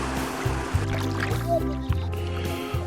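A low, steady motor drone of a small boat moving on water, with a faint watery wash and occasional knocks.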